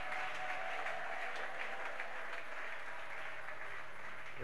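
A church congregation applauds at an evening family retreat service, a dense, steady wash of clapping from many hands filling the room throughout, fairly loud and unbroken.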